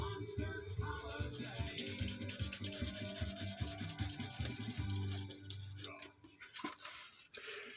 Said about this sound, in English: You have to cut along the back.